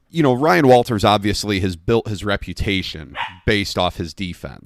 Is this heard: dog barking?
yes